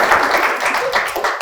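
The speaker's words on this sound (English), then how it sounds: "I think they want to clap." A brief burst of audience applause at an empowerment talk, a short, close patter of clapping lasting just over a second.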